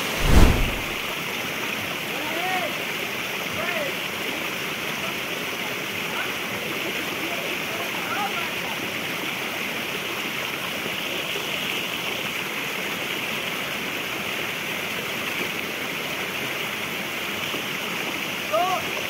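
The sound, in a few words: Lalgach waterfall flowing water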